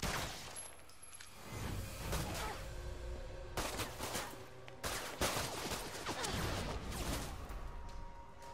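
Gunfire in The Evil Within 2 comes in rapid bursts and single sharp shots over about eight seconds, with several clustered volleys and loud cracks separated by brief lulls of game ambience.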